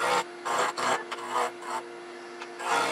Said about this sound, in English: I'm using a skew as a scraper with a tenon cut.